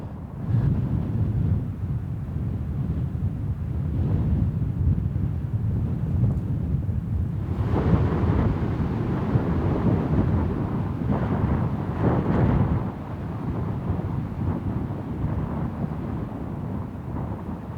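Fresh wind rushes across a fell summit near the eastern border in Lapland, a steady low roar buffeting the microphone throughout with a few stronger gusts and no talk.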